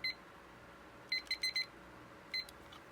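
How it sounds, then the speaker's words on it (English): A timer switched on during a tarot reading gives short, faint, high electronic beeps: a quick blip, a cluster of four rapid beeps, then one more after a pause, over quiet room hiss. "I did forget the timer again, which I can't afford to do right now, so I'm going to turn it on."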